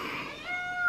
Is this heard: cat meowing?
yes